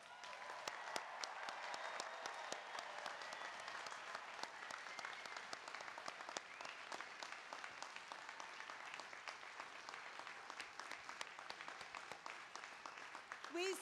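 Audience at a 2016 university graduation ceremony applauding the graduating students, a dense sustained wash of clapping across the hall that stays even and fairly distant throughout.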